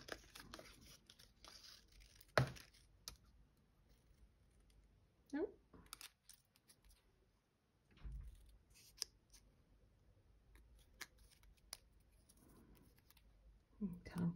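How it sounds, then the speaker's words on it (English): Scissors cutting out a piece of card for a pop-up cube card, heard as a few separate crisp snips spread over a quiet tabletop background, close and fairly faint. "I'm going to actually also cut this bit out"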